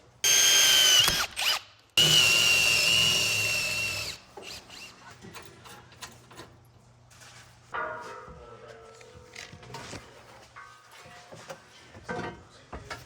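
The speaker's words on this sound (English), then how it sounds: "We drill a hole." A power drill whines loudly in two bursts as it bores a hole in a part for a Honda Talon UTV, followed by clanks and rattles of handling the parts.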